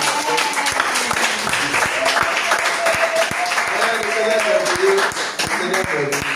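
A church congregation applauds during a worship service, a dense, steady wash of clapping with voices calling out and singing through it, dipping briefly near the end before picking back up.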